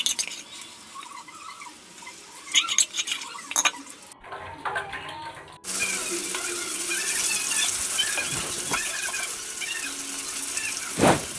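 Chicken garlic kabab pieces frying in oil, first some clinking of utensils and a short quiet gap, then a loud continuous bubbling sizzle that holds steady to the end.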